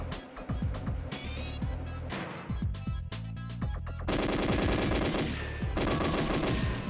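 An automated turret fires a machine gun in GoldenEye 007, a dense stream of close, loud gunfire with busy game sounds mixed in and growing heavier toward the end.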